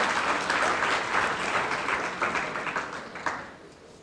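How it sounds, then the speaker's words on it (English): University students applauding in a hall, dense sustained clapping from a large crowd that gradually thins and fades toward the end. "You can clap yourself, yes,"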